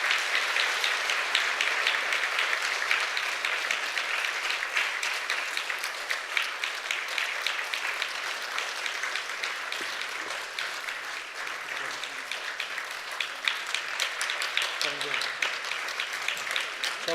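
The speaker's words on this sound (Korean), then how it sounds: "자, 박수가 필요합니다" A church congregation during a Sunday service applauds deacons called forward to the front, a long, even, continuous round of clapping from a large room, with some murmured voices near the end.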